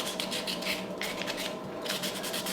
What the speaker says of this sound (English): sanding, rubbing off the residue